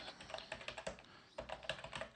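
Typing on a computer keyboard, a quick run of close, quiet key clicks with an uneven rhythm and a brief pause midway.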